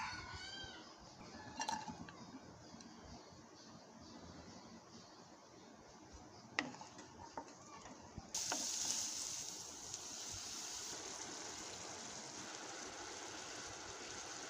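Oil heating in a pan before pangas fish curry is cooked, giving a steady faint sizzle that grows broader and louder partway through, with a few brief clinks and no talk.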